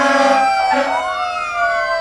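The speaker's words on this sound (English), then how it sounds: "And of course the deafening sounds of those horns" Loud fire truck sirens and horns blare at a railroad parade in Dennison, several overlapping wailing tones sliding up and down, close by and dominating with no talking.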